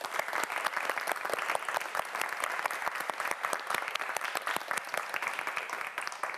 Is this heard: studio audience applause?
yes